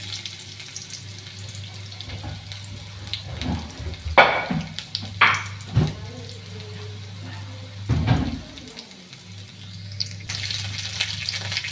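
Red onion frying in hot oil in a pan, a steady low sizzle under a mains-like hum with a few louder splashy bursts and clinks of stirring, no speech.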